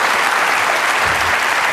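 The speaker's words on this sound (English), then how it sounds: "A warm round of applause for our contestants now." A studio audience at a British TV game show claps for the contestants, a steady, dense wash of applause throughout the short stretch.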